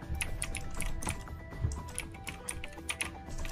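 A loud mechanical keyboard clatters with fast, continuous typing, keys clicking close to the microphone in uneven rapid bursts with no talk.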